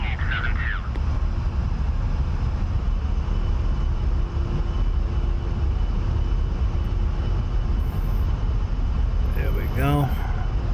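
A-10A jet rolling down the runway for takeoff in the DCS flight simulator, a loud continuous engine roar throughout, with brief radio-style voice bursts near the start and end.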